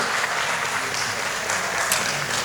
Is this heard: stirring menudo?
no